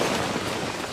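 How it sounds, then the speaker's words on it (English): Hail pelts a city in a dense, steady roar of rapid impacts, loud and close, filling the whole moment without a break and with no voices. "A hailstorm is approaching."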